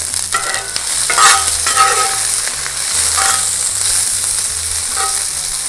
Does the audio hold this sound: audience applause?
no